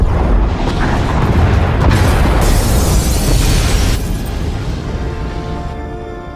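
Massive explosion tears through the pod bays in Star Wars: The Old Republic, a loud sustained roar of blasts and rumbling debris that slowly fades, with no speech.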